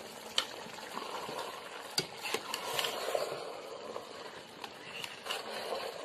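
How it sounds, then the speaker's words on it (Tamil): Rice being stirred with ghee in a pot, a steady soft scraping and stirring with a few sharper spoon clicks against the pan, close and moderately quiet with no talk. "ஊத்திட்டு நல்லா கலந்து விடணும்"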